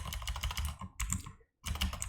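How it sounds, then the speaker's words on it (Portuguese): Close computer keyboard keys clatter in quick bursts with a short silent gap, as a Ctrl Shift Enter combination is pressed to run a Python calculation. "eu vou dar um Ctrl Shift Enter para realizar esse cálculo aqui"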